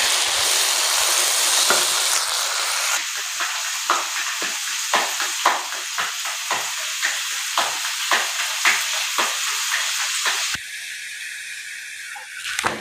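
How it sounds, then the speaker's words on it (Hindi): Keema frying beside parathas in a pan on a Pakistani village stove for the pre-dawn sehri meal: a loud, close, constant sizzle with rhythmic scraping stirs, then a brief shift to a softer hiss near the end. "और ये देखिए जी कीमा, इसको भी साथ साथ फ्राई करते जाएंगे।"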